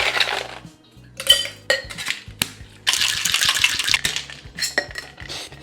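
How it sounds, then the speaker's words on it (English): Ice cubes are dropped into a metal cocktail shaker at a home bar, a series of hard clinks and rattles in uneven bursts, close and fairly loud. "Add ice to your shaker."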